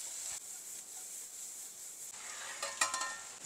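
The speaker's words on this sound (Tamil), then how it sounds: "வெங்காயம் இங்கே வதங்கியாச்சு, கேரட் அண்ட் கேப்சிகம் போட்டுடலாம்." Carrot and capsicum sautéing with onion in a pan: a soft, steady sizzle with stirring scrapes, brightening near the end with a few louder clatters.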